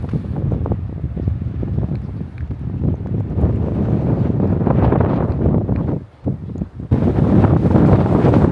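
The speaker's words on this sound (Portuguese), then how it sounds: "O problema é o vento, né? Que sempre atrapalha." Strong coastal wind buffets the microphone in loud, continuous low rumbling gusts, briefly dropping off near the end before surging back at full force.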